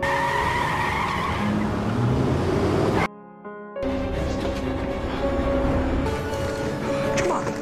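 A car in a film scene skids with squealing tires over engine noise, cut by a brief near-silent break before the driving and skid sounds resume, loud and mixed with voices.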